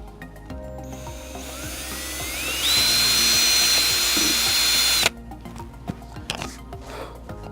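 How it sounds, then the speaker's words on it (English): A cordless drill with a 1/8-inch bit whirs at high pitch drilling a pilot hole for a boat outrigger line tensioner, starting up and steadying for a few seconds, then cuts off into quiet clicks and handling noise. "take this cordless drill with our standard drill bit, no more than 1/8 inch, and drill a pilot hole"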